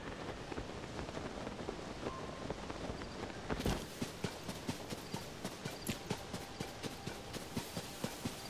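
Horse hooves clip-clop in Zelda: Tears of the Kingdom, steady evenly spaced clops that begin after a brief whoosh, over a constant windy outdoor background.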